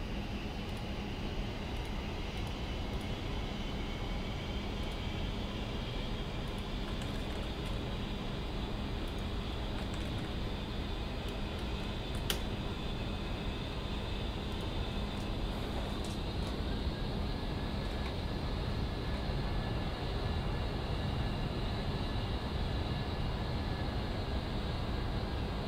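A-10C jet engine spooling up in a flight simulator game, a steady broad rushing roar with a faint rising whine, continuous and even throughout with no talking.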